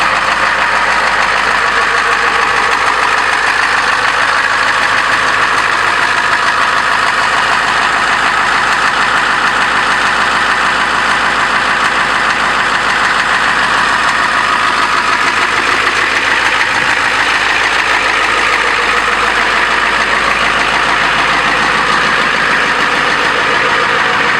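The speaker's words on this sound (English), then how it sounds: "That old diesel." A Ford F350 diesel ramp truck with 340,000 miles idles with a loud, steady, close rumbling clatter that continues unchanged throughout.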